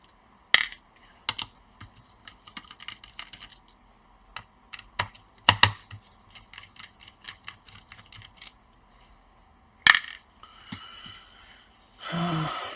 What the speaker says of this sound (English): We're gonna take out the screws,